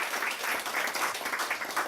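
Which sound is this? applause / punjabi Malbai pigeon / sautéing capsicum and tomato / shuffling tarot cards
applause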